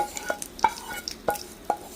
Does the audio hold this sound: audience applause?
no